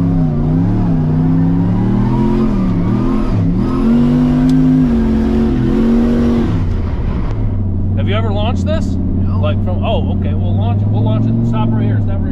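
A turbocharged LS-powered mega truck revs hard and loud nearby, its pitch rising and dipping with the throttle before settling into a steady drone, with voices in the background.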